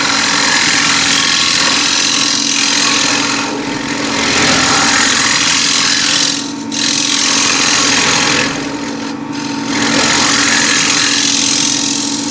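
A 10 mm thick, 1 inch wide ball scraper cutting wood on a turning lathe, giving a loud continuous rasping hiss over the motor's hum that dips briefly twice as pressure eases.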